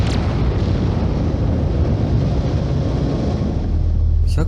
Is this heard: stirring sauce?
no